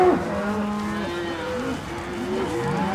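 Cattle moo repeatedly in long, drawn-out calls, several overlapping lowing voices at close to moderate distance over steady background noise.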